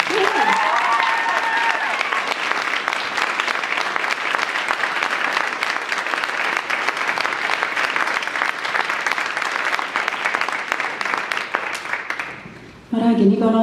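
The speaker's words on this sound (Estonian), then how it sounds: "Aplaus endale väga." Sustained audience applause for the 9th-grade girls who wrote a school Christmas play, steady dense clapping lasting over twelve seconds before fading, then a voice begins speaking.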